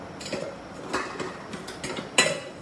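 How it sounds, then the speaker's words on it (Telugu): Tamarind seeds are pounded in a small vessel, giving irregular hard clinks and knocks, a handful of sharp hits spread across a couple of seconds, close and fairly quiet with no talk. "ఇలా ఇది మొత్తం ఎంచేసి దంచుతా"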